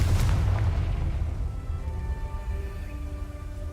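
Confringo blasting spell from Hogwarts Legacy, a heavy booming explosion at the start that rolls into a decaying rumble, followed by faint tonal magical shimmer tones.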